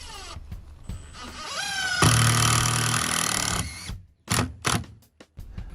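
A power driver sinks a 4-inch GRK trim head screw straight through the face of a stone capstone without pre-drilling. It makes a loud, steady whirring grind for about a second and a half, followed by a few short clunks of handling.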